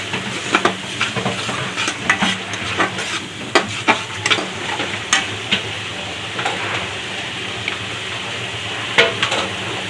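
Ginger, garlic, onion and chili fry with salt in a pan for a spicy prawn malai curry, giving a steady close sizzle broken by frequent scraping stirs of a spoon against the pan.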